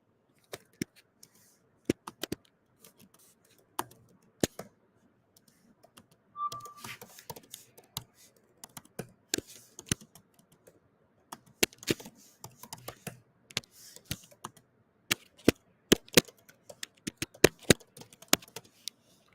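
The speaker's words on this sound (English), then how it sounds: "Let me type it." Faint, irregular clicks of typing on a computer keyboard, entering Linux terminal commands, come in scattered bursts and pauses over nearly twenty seconds in an otherwise quiet room.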